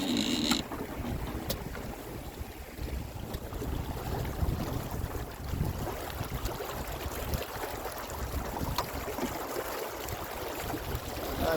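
Gusty wind hits the sails of a motor sailer out on the water, making a constant loud, broadband rush and buffeting that lasts the whole stretch without pause and without voices.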